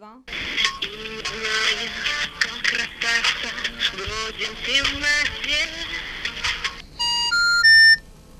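Someone calls a company's 24-hour phone number. Talking runs through most of the stretch, then a short series of stepped electronic telephone tones sounds loud and clear at the end.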